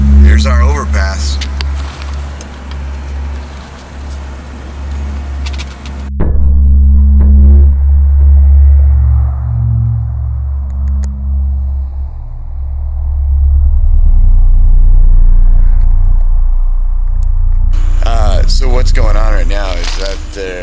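Small tuner cars passing near a highway overpass in a rough neighborhood at night, with a steady low road rumble and engine drone rising and falling as vehicles go by, plus occasional voices nearby.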